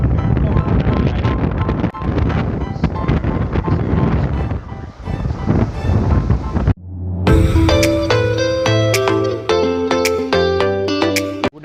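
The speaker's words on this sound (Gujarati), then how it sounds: "એટલો પવન છે, એકદમ વાવાઝોડું આવે ને એકદમ આમ પાછળ ધકેલી દે આપણને" Strong gusting wind at Mandvi beach in Kutch buffets the microphone in loud, roaring bursts for several seconds, then abruptly gives way to bright tonal music with clear notes for the rest of the clip.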